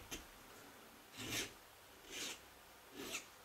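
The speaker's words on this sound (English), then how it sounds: "if I take my needle file to a minor surface" A needle file rasps across a hardened, ground steel worm gear from a Vertex rotary table, making four short, close scraping strokes separated by quiet pauses.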